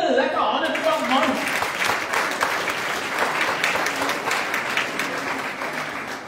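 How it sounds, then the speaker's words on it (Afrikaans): Applause for baptism candidates at a church service fills the room with steady, dense hand clapping from the congregation, lasting throughout and continuing evenly, with voices faintly mixed in. "Kom gee vir hulle 'n lekker hande klap man."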